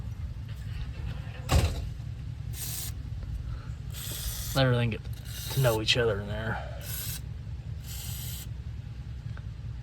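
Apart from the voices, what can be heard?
spraying WD-40 lubricant onto bolts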